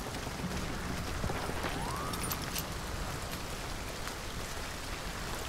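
Steady rain in the video game Hunt: Showdown hisses evenly throughout, with faint scattered drops and a brief distant whoosh, no voices.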